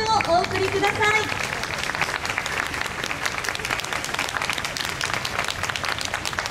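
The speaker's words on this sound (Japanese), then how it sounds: "今一度盛大な拍手をお送りください。" Audience at the Ginza Yanagi festival concert in 2019 applauding after a girls' high school wind band performance, sustained dense clapping that fades slightly after a voice at the start.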